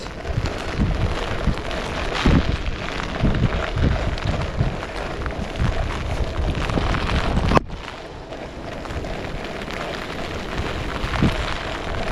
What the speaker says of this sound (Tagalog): malakas na yung hangin guys